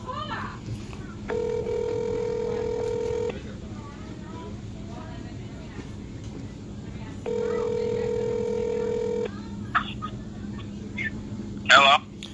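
A telephone number dialed for a live call from a yacht in Marina del Rey, with two long steady ringback tones separated by a pause and a few short beeps, under faint background talk.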